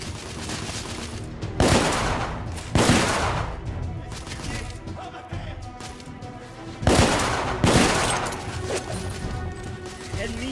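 Pump shotgun blasts in The Order: 1886, several loud broadband shots spaced irregularly across the clip over game background noise and music.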